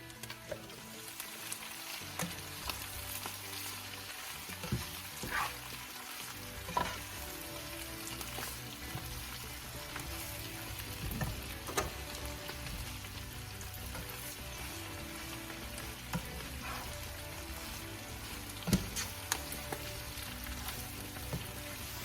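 Minced beef and spinach stirred and frying in a pan, a steady close sizzle broken by occasional scrapes and clinks of the spoon, with no talking.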